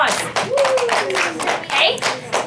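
A classroom of students claps for classmates, brief scattered applause of several hands at close range, mixed with children's voices talking over it.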